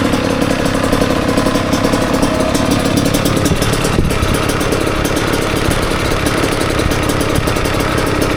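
Kawasaki KX112 two-stroke dirt bike engine running loud and close, a continuous raspy idle with slight throttle blips, heard alone.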